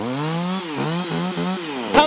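A 36V KM Grand cordless chainsaw runs with a loud, steady motor whine that dips and rises in pitch several times, then ends in a short, sharper burst.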